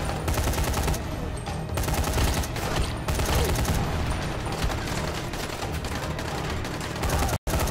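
Dense sustained gunfire in the Dying Light zombie game, rapid loud bursts of automatic shots almost without pause, ending with a brief cut to silence.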